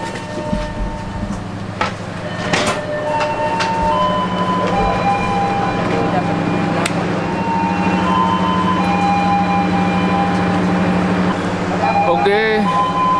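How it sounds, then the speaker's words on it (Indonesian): Ambience at Surabaya Pasar Turi railway station: a loud, steady rumble of trains with a tonal drone, scattered clanks and a brief whistle-like tone near the end. Voices murmur in the background. "aku udah sampai di stasiun Surabaya Pasar Turi"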